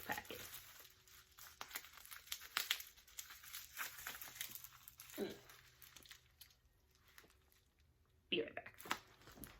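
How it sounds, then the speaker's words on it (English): A crinkly packet is handled and opened up close, with repeated plastic crinkles and rustles, a brief tearing sound near the end, and speech mixed in throughout. "let's open up this packet"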